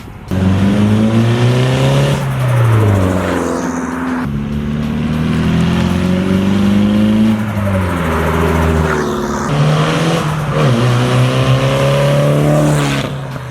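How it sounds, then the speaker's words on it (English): An SR20-swapped Nissan 240SX with a turbo accelerates past in a flyby, its engine rising in pitch through several gear pulls, loud and close before fading away. "What's a car review without a flyby?"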